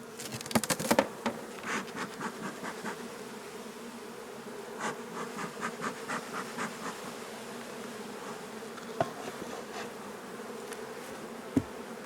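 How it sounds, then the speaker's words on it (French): Honeybees from a recently captured swarm buzz steadily inside a six-frame nucleus hive box, a dense continuous drone close by with a few brief knocks and no talking. "Donc là je vais contrôler le dernier essaim capturé."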